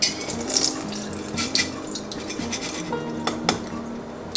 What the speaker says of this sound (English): we're going to give them a rinse yet from that older water that they were sitting in overnight